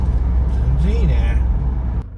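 A prototype Toyota Camroad engine hums with a steady low rumble while driving on the road. The engine stays even under a voice inside the cabin, then softens slightly at the end.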